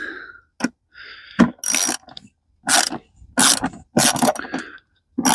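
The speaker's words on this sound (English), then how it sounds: "So let me just tighten that down." Ratchet tightening a bolt on a dress-up kit for a BMW E46 engine, a series of loud, close clicking bursts in irregular spurts with short pauses between them.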